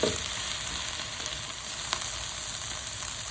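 Ingredients for a chicken curry softening in a hot pan give off a steady, close sizzle and crackle that continues throughout with no talking and a few slightly sharper pops.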